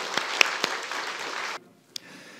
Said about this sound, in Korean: 자, 나올 때 우리 큰 박수로 자리에 설 때까지 같이 환영을 하겠습니다.